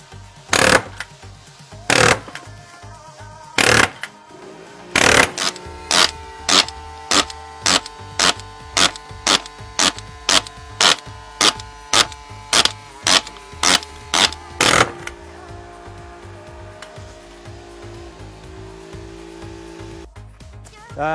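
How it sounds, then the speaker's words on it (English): A Simpson Strong-Tie collated nail gun fires a long row of sharp, evenly spaced bangs into a plate, roughly two per second, loud and close, then stops as a low hum continues. "We're just going to punch out a whole row of nails into the plate"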